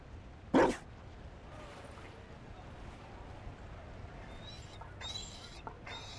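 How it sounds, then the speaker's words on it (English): A Mabari dog in the video game Dragon Age: Inquisition gives a single short, loud bark near the start, followed by faint game ambience and a few soft clinks. "You found a dog? They don't breed Mabari in Olay."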